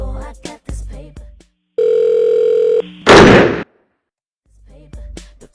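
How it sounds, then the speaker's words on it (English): A disturbing hotline call in the Saints Row video game plays a steady, loud tone for about a second, then a harsh burst of noise. Brief speech comes before it and returns faintly afterward. "calling this one, which is a unalive hotline, will play this disturbing audio"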